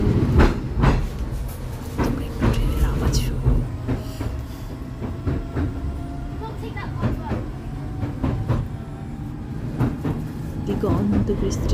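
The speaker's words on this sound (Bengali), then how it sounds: "আর এই ট্রেনের আওয়াজটা শুনতে যে কি ভালো লাগছিল।" Seaside train ride at Southend-on-Sea at low tide, with a steady rumble and rhythmic clickety-clack of the carriages on rails running throughout, close and continuous, while people talk over it.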